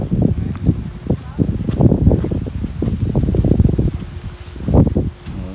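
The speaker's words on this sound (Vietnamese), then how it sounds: "gió quá cả đêm à, không câu được cái gì luôn" Strong, gusty wind buffets the microphone at a dam campsite during a night of fishing, in loud rumbling bursts over the whole stretch, while someone talks through it.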